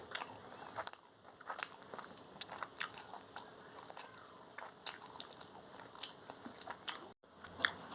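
Someone eats mutton keema curry with roti up close, making soft bites, chewing and moist squishy mouth sounds at a quiet level with small pauses, no talk.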